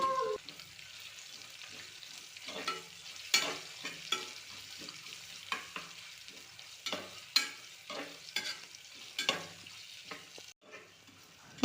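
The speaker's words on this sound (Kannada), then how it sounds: "ಈ ಉಳ್ಳಾಗಡ್ಡಿನ ಹಸಿ ಸ್ಮೆಲ್ ಹೋಗೋವರೆಗೂ ಚೆಂದಾಗೆ ಫ್ರೈ ಮಾಡ್ಕೋಬೇಕು" Onions with garlic paste frying in oil for a vegetable pulao, a soft steady sizzle broken by repeated sharp scrapes and clinks of a spoon stirring against the pan, close and alone without talk.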